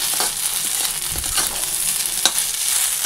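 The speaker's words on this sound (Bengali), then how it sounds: "এখানে এই যে করলা ভাজা বসিয়েছি, এর মধ্যে একটু চালের গুঁড়ো দিয়ে দিয়েছি" Bitter gourd slices frying in a pan with rice flour, a continuous crackling sizzle with occasional stirring knocks, close and fairly loud.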